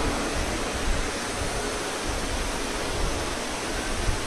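Heavy monsoon rain pours steadily at an outdoor religious gathering in Gurugram, Haryana, a dense, loud, unbroken hiss with no gaps and no voices.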